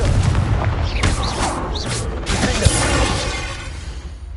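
A Confringo blasting spell detonates in Hogwarts Legacy on PS5, a dense roaring blast layered with whooshing magical swirls and creaking, clanking debris, loud and continuous before tapering off.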